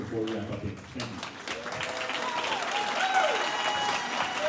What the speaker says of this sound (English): Let's have a round of applause for both candidates